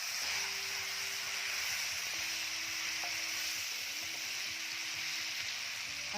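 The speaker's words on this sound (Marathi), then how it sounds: "आता यामध्ये आपण टाकतो टोमॅटो." Tomatoes added to fried onions in a hot pan, giving a steady, close sizzle and hiss with light stirring throughout.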